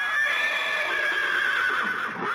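A horse neighs loudly and close in a classic western TV drama, one sustained shrill whinny lasting about two seconds with no talk over it.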